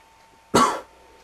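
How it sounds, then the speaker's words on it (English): A single short, close cough, sharp and breathy, standing alone in a quiet room. "Excuse the cough."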